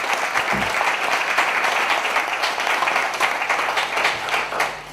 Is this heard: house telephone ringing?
no